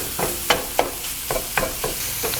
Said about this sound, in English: start to brown our breakfast sausage